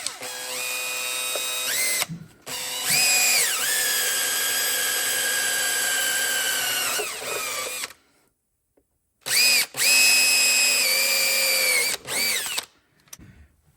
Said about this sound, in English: I'm going to use a couple of these factory Kohler screws, self-tapping